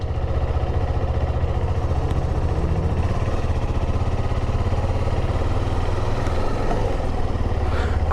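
A KTM 390 Adventure's single-cylinder engine runs at a steady idle, a continuous close low throb with an even pulsing rhythm and no talk over it.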